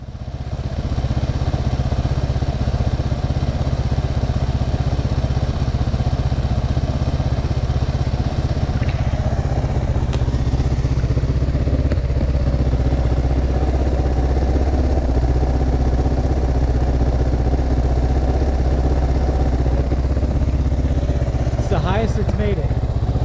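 A Kawasaki KLR 650 fitted with a bolt-on Ducati fan runs on a ride, a steady loud single-cylinder drone with wind rush and a few clicks and shifts, with talking over it.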